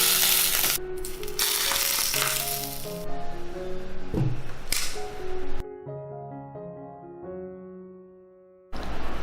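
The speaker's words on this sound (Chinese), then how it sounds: "撒上少许葱花点缀一下，泼上热油，逼出香气" Hot oil poured over chopped scallions atop steamed garlic prawns with noodles gives a loud, close, steady crackling sizzle for several seconds that then drops away, with background music running throughout.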